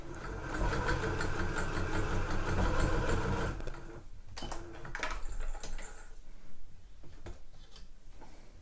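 A sewing machine stitches a row along the edge of a shoe bag made from a Jalie Nordik pattern, its steady, close mechanical whir running for several seconds before slowing into uneven bursts and pauses. No one speaks.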